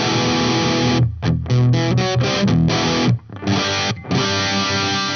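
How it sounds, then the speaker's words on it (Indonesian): Cort G300 Pro electric guitar played through an amp with heavy distortion, loud and close, with thick sustained chords broken by a few short stops and restarts. "Terus kita pasangin ampli, distorsi langsung nih mas."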